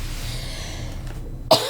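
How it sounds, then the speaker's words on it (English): A single short cough bursts out near the end from someone with a dry throat, loud and close after a stretch of quiet room noise. "this is coughing is because I'm so dry"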